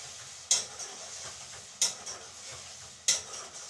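Tomatoes sizzle in a pot on the stove while a spoon stirs them, with three sharp metallic scrapes against the pot at even intervals over a steady frying hiss.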